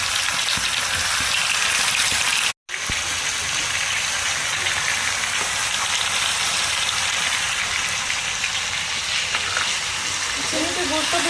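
Cane jaggery and sugar being stirred together in a pot for an amra (hog plum) pickle, giving a steady broadband sizzling, scraping wash that runs almost unbroken, with one brief dropout early on.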